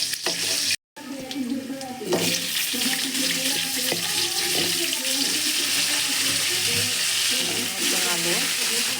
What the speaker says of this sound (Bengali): প্রথমে জিরা আর পেঁয়াজ এটা একটু ভেজে নেব